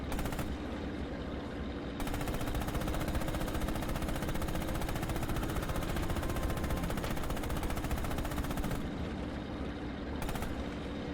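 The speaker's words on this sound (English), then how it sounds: "Open fire with the coax MG on those targets." Coaxial machine gun on a tank in Red Orchestra 2: Heroes of Stalingrad, firing long continuous rattling bursts close up and loud over a steady engine rumble, with brief pauses near the start and end.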